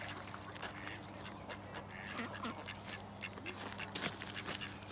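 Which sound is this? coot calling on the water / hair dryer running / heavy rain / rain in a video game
coot calling on the water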